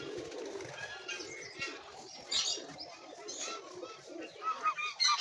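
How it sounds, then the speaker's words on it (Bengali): Many pigeons coo and flutter close by at a Ganga river ghat near Katgola garden in Murshidabad, with soft repeated throaty coos and chirps overlapping in an uneven rhythm. "কত পায়রা।"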